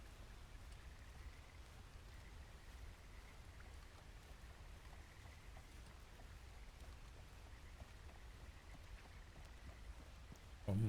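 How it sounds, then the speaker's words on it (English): Steady, soft rain patters continuously for several seconds in a video game, a faint even hiss with no voices, ending in a brief louder thump. "A perfect day for rain."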